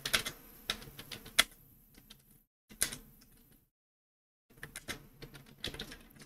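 Quick bursts of keystrokes on a computer keyboard while text is entered into a PDF editor, clicking in uneven clusters with two short silent gaps, close and fairly quiet.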